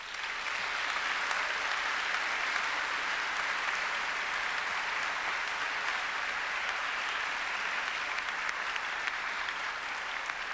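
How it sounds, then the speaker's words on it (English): A graduation ceremony audience at Monash University gives a sustained round of applause, a dense, even roar of many people clapping that holds at a steady level from start to finish without pause. "I would ask that you now take this opportunity to show them your appreciation by a round of applause."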